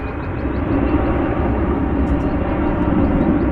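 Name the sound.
roar of American Airlines Airbus A321 jet plane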